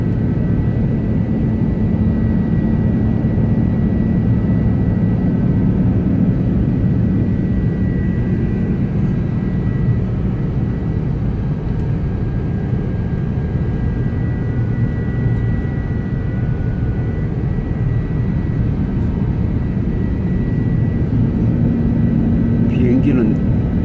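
A 500-ton airliner takes off at full engine power on a long-haul flight, giving a steady, loud, low rumbling roar that stays constant throughout, with someone talking over it.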